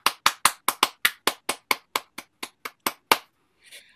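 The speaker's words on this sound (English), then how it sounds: "a round of applause for Susan" Fifteen sharp, evenly spaced claps from a single person, close and fairly loud, as the round of applause for speaker Susan Carr on a video call winds down, followed by a brief soft rustle.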